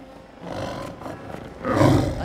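A tigress in a cartoon gives a loud roar that swells twice, close and full over a few seconds, with no one talking over it.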